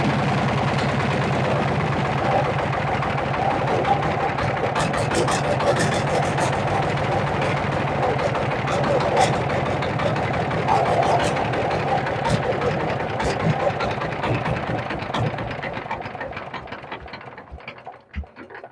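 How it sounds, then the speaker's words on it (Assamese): A pickup-mounted rice mill's self-start engine, run off a 12-volt battery, runs with a steady, loud, close mechanical drone and rattle that holds throughout, then drops away near the end. "সেলফ ইঞ্জিনটো মই ষ্টাৰ্ট কৰি দেখাইছো।"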